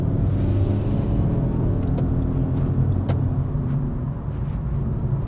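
A Honda BR-V N7X Prestige 2024 sits in a traffic jam, its engine idling with a steady low rumble up close. The sound runs continuously, with no voices over it.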